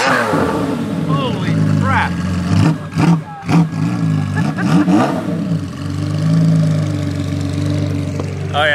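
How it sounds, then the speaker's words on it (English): A straight-piped Ferrari F50 cranks and fires up, its engine catching with a few sharp revs before settling into a loud, raspy idle, while people talk and exclaim over it. "we got a straight pipe Ferrari F50 startup"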